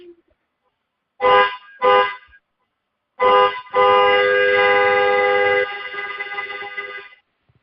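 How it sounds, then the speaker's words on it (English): Car horn sounding a diagnostic code: two short blasts of about half a second each, a pause, then a brief blast followed by a long sustained honk lasting several seconds, loud and close with no talking. "you do 2 honks for about 2 seconds each, and then one long sustained honk for at least 5 or 10 seconds"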